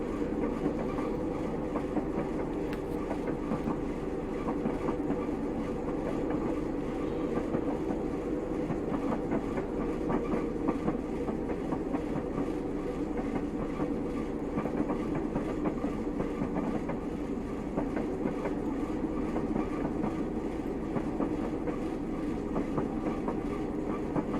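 Class 111 diesel multiple unit running between Bournemouth Central and Weymouth in Train Simulator Classic, a steady engine drone with rolling wheel clatter over the rails, continuous and moderately loud throughout.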